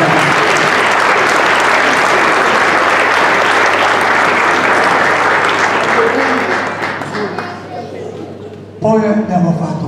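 Dense, loud applause from a large concert audience in Meda, Italy fills most of the stretch, fading toward the end before a brief renewed burst.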